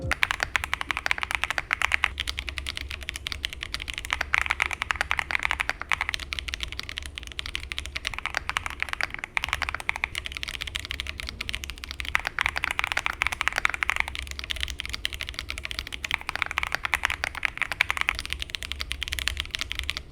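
Rapid mechanical key clatter from a CIDOO V87 keyboard with the tape mod applied, steady typing in bursts separated by brief pauses, close and fairly loud with no voices.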